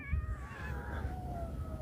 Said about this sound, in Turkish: Bu ne kadar kedi? Aman Allah'ım. Her taraf kedi.